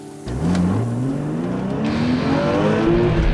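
A convertible car's engine roars and revs higher as it speeds past at about 120 mph on a rainy track, a loud continuous whine with rushing road noise throughout.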